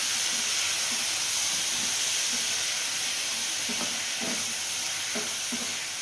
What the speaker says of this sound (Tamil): இப்போ நம்ம காளானை இதில் சேர்த்துக்கலாம். இதை நல்லா விடாமல் கிளறணும்.